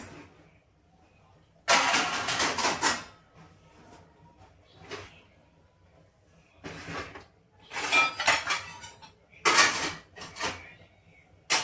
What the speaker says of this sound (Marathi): आता भांडी लावून घेते.